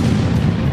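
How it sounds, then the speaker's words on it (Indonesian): Heavy cannons fire between wooden warships in a naval battle, giving a short, loud, booming blast with a rumbling roar that fills the whole moment. "kedua kubu saling menembak"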